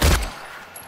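A single sharp video game gunshot in Silent Hill bursts out loud at the start, then decays into a faint ringing tail with a small click near the end.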